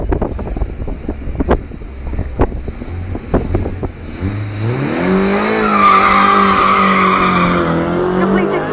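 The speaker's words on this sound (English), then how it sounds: "Next up, car 14 driven by Guy Bland in the Ford Markhorn Escort." A Ford Escort Mk1 at a sprint drag event idles with sharp revs, then launches hard down the strip, the engine roaring loud and rising steadily as it pulls away, with wind buffeting.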